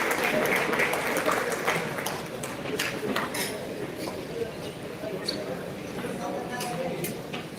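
An auditorium audience at a one-day national seminar on pharmacovigilance claps steadily to welcome the arriving chief guest, a dense, continuous patter of hands that holds for several seconds over a low murmur of the room.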